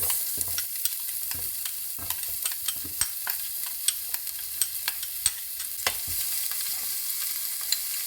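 Chopped onions frying in melted butter ghee in a heavy-based pot, a bright crackling sizzle with frequent quick pops and spatula clicks scattered across the stretch.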